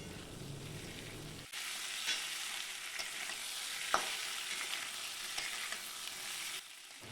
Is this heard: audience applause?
no